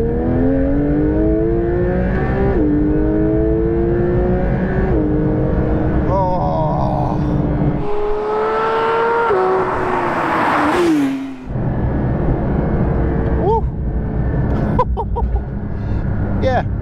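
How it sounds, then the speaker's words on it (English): A Porsche 992 GT3 engine accelerates hard, its harmonics climbing through several gear-by-gear pulls with brief shifts between them, loud and close from inside the car, with voices talking over it. "The engine has got a real bark to it."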